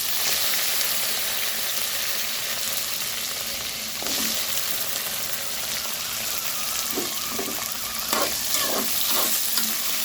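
Chopped onions with cumin seeds and curry leaves frying in oil for a Tamil vatha kuzhambu, a steady sizzle with occasional stirring scrapes near the end, alone with no talk.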